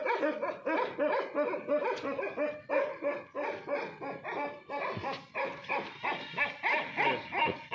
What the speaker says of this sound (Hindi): कूची डॉग हैं, अफ़गानी इसको कहते हैं।